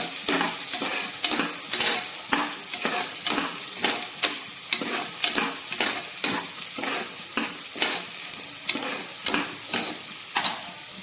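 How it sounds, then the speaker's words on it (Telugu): Onions and carrots fry in a pan with green chillies, cumin and mustard seeds, a loud close sizzle punctuated by quick, regular scrapes of a spatula tossing the vegetables. "ఆనియన్స్, క్యారెట్ అయితే బాగా ఫ్రై అయిపోయి"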